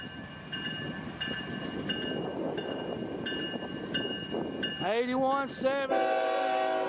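A Norfolk Southern freight train rumbles past with a steady clatter and repeating bell-like tones, then its horn sounds in loud, close blasts near the end.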